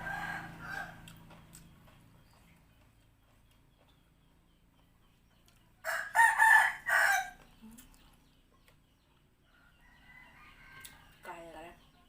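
A rooster crows once, loud and nearby, in a drawn-out call midway through an otherwise quiet outdoor stretch, with faint sounds at the start and end.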